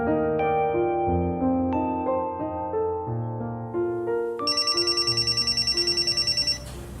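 A telephone bell rings in a steady run of rapid electronic trills near the end, loud and close, following a stretch of sustained tonal music with no talk.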